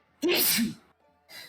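A single sharp, close sneeze bursts out, followed moments later by a short spoken word.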